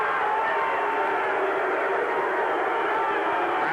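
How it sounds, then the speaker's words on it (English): Basketball crowd in a college gym reacting to a charging call, a dense, steady wash of voices and murmuring booing that holds at a loud, even level throughout. "Crowd, as you can tell, does not like the play or not like the call."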